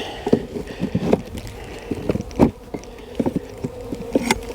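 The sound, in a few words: honey bees buzzing in an opened beehive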